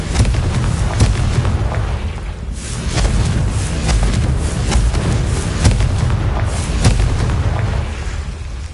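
Booming blasts from the Confringo fire spell in Hogwarts Legacy, loud rumbling explosions with sharp pops recurring every second or so over a continuous heavy roar.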